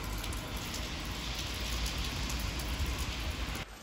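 Steady rain falls outdoors in fog, a constant close hiss and patter of drops on surfaces, cutting off abruptly near the end.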